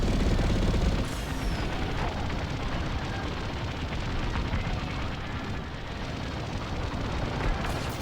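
A TIE bomber's blasters in the space combat game Star Wars: Squadrons, firing in a sustained dense barrage of rapid shots over a loud, rumbling engine and explosion bed that fills the whole stretch.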